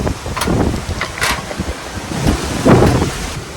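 Strong wind buffets and roars in uneven gusts outdoors in Tamil Nadu during roadside stove cooking, a deep rumbling rush that swells and fades, loud and close.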